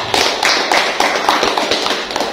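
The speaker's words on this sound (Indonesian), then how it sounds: "Kita berikan aplaus untuk Pak Said." Audience applause at an Indonesian coconut talk show, "Bangkit Bersama Kelapa": a steady patter of clapping hands filling the room for a couple of seconds, with no voices over it.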